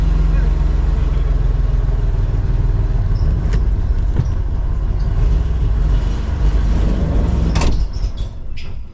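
A 1990 Ford van engine runs while the van drives, giving a steady low rumble with road and body rattles throughout, plus a few brief clunks and a sharp knock near the end.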